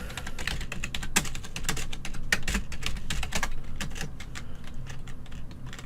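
Fingers type a command on a computer keyboard during a Minecraft redstone tic-tac-toe game, a quick, close run of clicking keystrokes in uneven bursts, with no talking.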